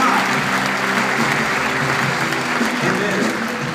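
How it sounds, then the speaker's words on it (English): A church congregation claps in praise in a sustained, dense burst of applause, close and loud, fading slightly toward the end. "Come on, give Him one more hand clap of praise today."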